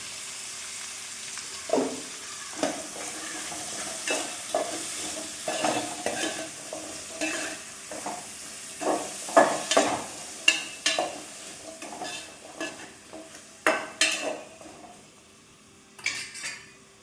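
Chopped onions with ginger, garlic and green chili sizzle in a pan for a chicken curry, with a spoon scraping and stirring in repeated clattering strokes against the metal, close and steady.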